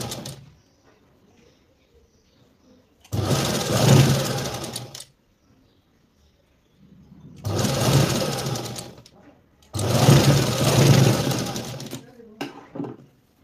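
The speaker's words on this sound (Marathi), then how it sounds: "आता आपण याची स्टिचिंग करून घेऊया." A sewing machine stitches a princess blouse in three loud, steady whirring runs of a few seconds each, separated by quiet pauses.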